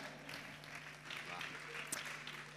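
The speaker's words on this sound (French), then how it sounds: "on applaudit le député Patrick Mouyaya." Audience applause for a deputy during the grand final of the Miss RDCongo pageant: a fairly faint, steady patter of many hands clapping, with a low electrical hum beneath it and a slight swell partway through.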